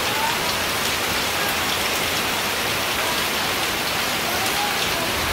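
Heavy storm rain pours steadily and loudly, a dense, continuous hiss of drops on surfaces with no pauses.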